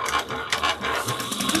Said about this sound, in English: we're going to take it to our machine, and we're going to top stitch it 1/8 of an inch